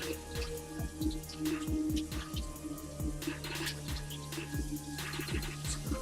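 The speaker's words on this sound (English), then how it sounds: "Give it a quick rinse here." Plastic juicer containers are rinsed with water, making a quiet run of repeated dripping, plinking splashes and light trickling at an uneven rhythm throughout.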